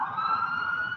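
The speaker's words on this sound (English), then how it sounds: "You hear a few sirens going off." A wailing emergency siren sounds steadily and fairly loud throughout, with a faint undulating pitch and a little background traffic rumble.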